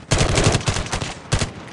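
Rapid automatic gunfire in the mobile video game Call of Duty Mobile, a dense burst of closely spaced shots lasting about a second, then a brief pause and a shorter second burst, loud and up front with no talk.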